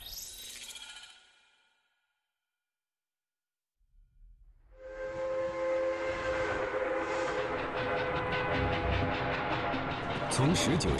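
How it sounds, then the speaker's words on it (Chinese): A Fuxing CR400BF high-speed train at China's largest rail passenger car manufacturing base sounds out after a brief hiss and a few seconds of silence, rising into a loud, steady mechanical drone with layered tones and closing rhythmic clatter. "眼前这辆复兴号 CR400BF"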